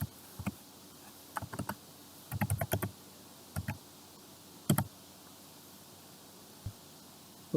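Sporadic keystrokes on a computer keyboard while entering exam marks into a school data portal, soft close clicks in short clusters separated by pauses over quiet room hiss.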